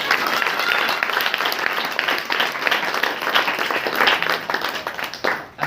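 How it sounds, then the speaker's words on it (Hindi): A congregation at a Saturday Christian prayer meeting claps their hands together, producing loud, dense and steady applause that lasts several seconds and fades slightly toward the end. "ताली बजाकर"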